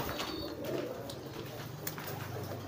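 Soft cooing of adult homing pigeons in poor condition under a steady background hum, with a few faint clicks and rustles; the birds sound fairly close.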